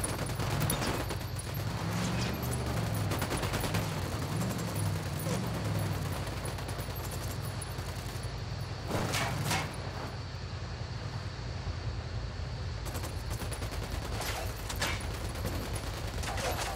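Bursts of gunfire from the video game Ghost Recon Wildlands crack out in several sharp volleys over a constant background rumble, with voices talking in between.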